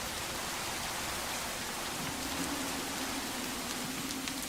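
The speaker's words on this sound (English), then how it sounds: "Proper rain, you can get free clean water by looking straight up into it." Steady, dense rain pours across the whole stretch in the game HardRock TFC4, a continuous hiss of falling water with no talk.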